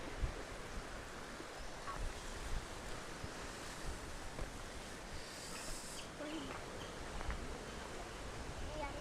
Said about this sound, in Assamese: ইয়াত মোৰ পিছফালে দেখা পাইছেই চাগে ধুনীয়া নীলা সাগৰ।